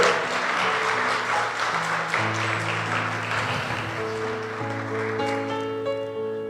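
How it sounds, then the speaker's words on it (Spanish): A church congregation claps loudly during a worship service while organ or keyboard chords sustain beneath, the applause rolling steadily and gradually fading as the music carries on. "Dale un fuerte aplauso al Señor."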